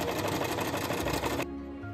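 A sewing machine runs fast and close, a busy rattling whir of stitches through fabric for about a second and a half before stopping abruptly, leaving a faint hum.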